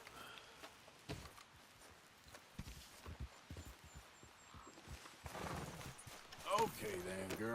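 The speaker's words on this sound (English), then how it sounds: "Cavalo." Horse hooves clip-clop at a walk in Red Dead Redemption 2, steady and moderately close, with a voice speaking briefly near the end.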